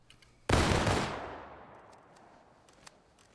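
A rear-rank musket volley fires in War of Rights, a Civil War-era game: one loud, sharp crack at the start, then a long rolling echo that fades slowly over several seconds.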